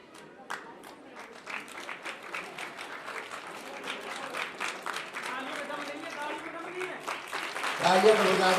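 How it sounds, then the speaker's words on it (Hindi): Scattered clapping from an audience at a school event grows into fuller applause, with individual claps audible at first and voices talking over it near the end. "हमारे सीधो साहब के लिए जोरदार तालियां।"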